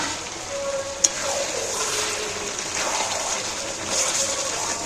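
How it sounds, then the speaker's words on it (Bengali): Fried potatoes stirred into chicken curry in a pan, a soft continuous sizzle with light stirring, one sharp clink of utensil near the start, no voices. "আলুগুলো মাংসের সাথে নাড়াচাড়া করে কষিয়ে নিই"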